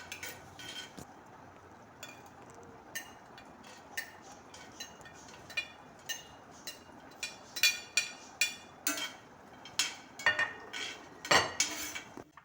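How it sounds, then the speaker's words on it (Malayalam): Almonds and cashews tossed in a hot pan, with repeated clinks and scrapes of a utensil against the pan, growing more frequent and pronounced near the end over a quiet background. "പാൻ ചൂടായതിലേക്ക് ബദാം ഇടാം, പിന്നീട് അണ്ടിപ്പരിപ്പിടാം."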